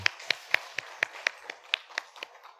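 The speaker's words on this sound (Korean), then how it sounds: "우리 박수 한번 해주시기 바랍니다." A church congregation gives a short round of applause during a Sunday service, about a dozen light, evenly spaced claps, fairly quiet and slightly distant.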